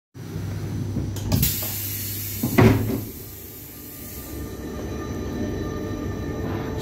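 A train pulling into platform 5 at Schiphol station, with a steady rumble, a couple of thuds and clunks early on, then a quieter hum as it settles, no talk.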